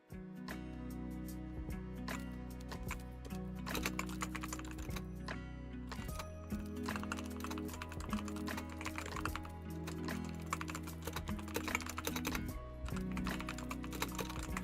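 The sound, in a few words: computer keyboard typing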